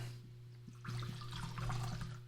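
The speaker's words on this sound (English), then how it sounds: "Our first pour here." Heaven Hill bottled-in-bond bourbon glugs and trickles from the bottle into a glass in one continuous pour, quiet and close over a steady low hum, with no talking.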